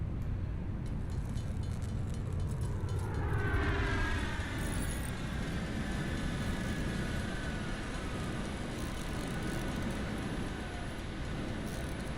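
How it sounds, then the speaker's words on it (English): A rising mechanical whoosh and descending rumble of a large cargo freighter returning in the video game Satisfactory, layered with swept tonal whirs over a steady low roar, no speech. "That is the sound of the ship returning."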